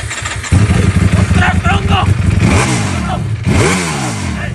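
A motorcycle engine starts and revs in loud, rising bursts close by, with a person exclaiming over it.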